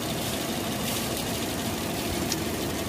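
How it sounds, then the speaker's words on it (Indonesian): A Toyota Vios ex-taxi car engine idles steadily nearby, a constant rumbling drone with no pauses or revving. "Kalau mesin tuh sebenarnya bisa dilihat dari suaranya ya. Suaranya masih enak, terus nggak ada pincang"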